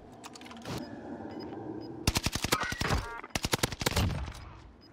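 Rapid automatic gunfire in the video game Warzone, firing in bursts of sharp, close shots separated by brief pauses, with a single loud shot early on.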